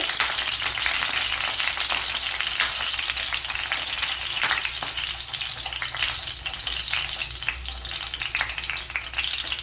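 Citron pieces sautéing in hot oil for an Onam pickle crackle and sizzle loudly and steadily up close, with occasional sharper pops as they are turned in the pan.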